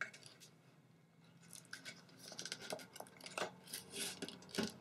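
Scissors snip away excess material on a coffee-can upcycling craft, giving a series of crisp, close cuts that grow louder and more frequent toward the end, with no talking.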